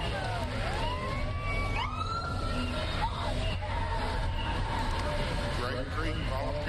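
A Great Creek Volunteer Fire Department truck rolls by in a rodeo parade, its wailing siren sweeping up and down over steady engine rumble and crowd noise, with someone talking throughout.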